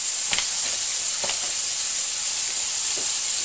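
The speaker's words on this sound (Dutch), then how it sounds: "Daar leg ik nu wat schijfjes vet in. En die bakken we dus mooi." Slices of fat frying in a pan, a steady loud hiss and sizzle throughout with a few faint pops and crackles, no voices.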